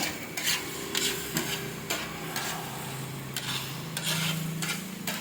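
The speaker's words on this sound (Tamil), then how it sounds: "4 முட்டையும் போட்டு நல்லா கிண்டி நல்லா ஒன்றோட ஒன்று எவ்வளோ மிக்ஸ் ஆகுதோ" Kothu parotta is stirred and mixed with four eggs on a hot griddle, with repeated scraping and clanking strokes of a metal spatula over a steady sizzle, close and fairly loud with no talk.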